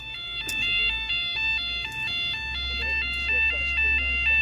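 Level crossing alarm at Canterbury St Dunstan's in Kent, a steady two-tone electronic warble that repeats in a regular rhythm, fairly close and loud, with low road or traffic rumble underneath.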